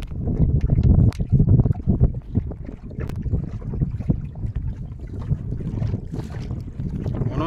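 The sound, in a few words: strong wind on a river boat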